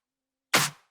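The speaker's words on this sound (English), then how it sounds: "So together, all the claps sound like this." Layered clap samples stacked and played together in an electronic music track, forming a single loud, bright hit that decays quickly into silence.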